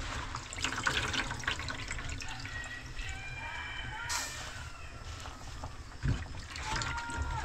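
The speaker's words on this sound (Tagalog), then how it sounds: "Lagay na natin yung ating gulay" Water splashes and bubbles as vegetables are dropped into a pot of boiling water, with a sharp splash partway through and steady rolling boil beneath.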